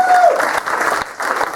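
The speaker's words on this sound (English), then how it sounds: "Give him a round of applause." Comedy club audience applauding a performer, a dense steady patter of clapping that dips briefly near the end, with a faint voice over it.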